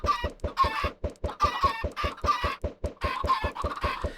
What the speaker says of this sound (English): we want all of our chickens in this area here